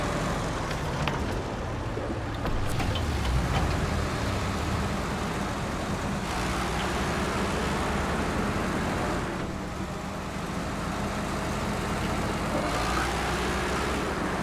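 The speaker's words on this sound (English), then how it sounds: "This engine is so loud." A truck engine in the off-road driving game SnowRunner drones loudly and steadily at night, a constant heavy rumble with small shifts in load and no talk over it.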